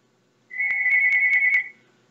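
A phone ringing with a single short electronic ringtone burst, a steady bright tone pulsing about five times over roughly a second, clear and close in a quiet room.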